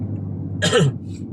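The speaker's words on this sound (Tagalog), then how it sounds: "inuubo na masakit na ang lalamunan" A single short, harsh cough from a person with a sore throat, close and fairly loud, against a quiet low hum.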